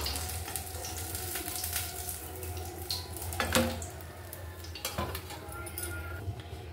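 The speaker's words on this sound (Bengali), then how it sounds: "এবার আলুর বেগনিগুলো তুলে নেব।" Aloo beguni, potato fritters, lifted from hot frying oil: a soft sizzle runs underneath while a utensil scrapes and clinks against the pan in several short, sharp knocks, close and fairly quiet.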